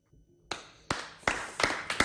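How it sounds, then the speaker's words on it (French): Short burst of audience applause after a live televised card trick, a few sharp claps building into a quick ripple of clapping that repeats in waves, fairly close and with no voices over it. "On applaudit parce que ça a marché pour moi."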